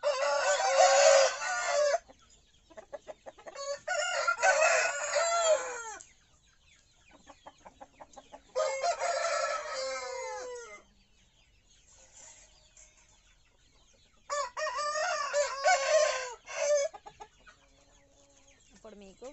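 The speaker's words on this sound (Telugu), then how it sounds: "నాకు ఇష్టమైన పుంజు." A prized home-bred rooster crows and clucks loudly nearby in three separate bursts separated by quiet gaps, with softer clucks between, and no talk.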